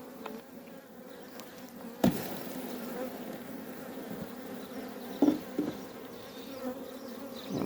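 Many honeybees buzz continuously close by around an underdeveloped hive, a dense steady hum broken by a few sharp knocks.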